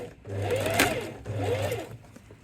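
A sewing machine runs two close, steady stitching bursts with a short pause between them while sewing a fabric wine bottle tote, motor hum loud and near.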